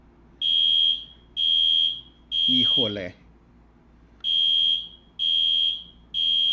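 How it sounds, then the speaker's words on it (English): Fire alarm test: loud, steady electronic tones repeating in long bursts about a second each with short gaps, a brief spoken exclamation interrupting the pattern midway. "That lovely sound that you're hearing is a fire alarm test."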